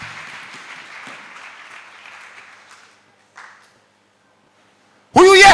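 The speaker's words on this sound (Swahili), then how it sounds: "makofi kwa Bwana Yesu" Church congregation clapping for Jesus at a Swahili service led by a pastor, a spread of mid-pitched claps fading out over about three seconds, then a brief burst, then near silence before a loud sound starts at the end.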